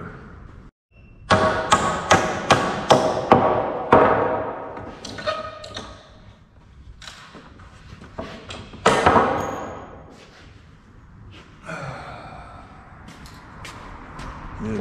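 Hammer strikes on a leaking roof ring out in loud, uneven bursts of sharp taps and thuds with short pauses between them, close by and with no talking.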